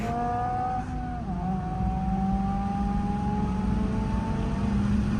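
A base Honda Civic engine drones steadily and its pitch slowly climbs as it accelerates, close and fairly loud, with no talking.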